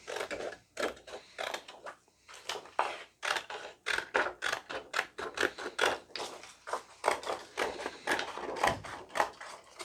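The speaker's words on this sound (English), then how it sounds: "So now even when I'm cutting with a pair of scissors," Scissors snip through a sturdy Mylar stencil sheet in a fast run of crisp, close cuts, a steady rhythm of sharp clicks and rustles with no talking.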